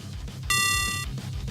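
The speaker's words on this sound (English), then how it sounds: "Hang up the phone, Mika." A single bright electronic beep marks the end of a phone call: one steady, fairly loud tone lasting about half a second over a low background hum.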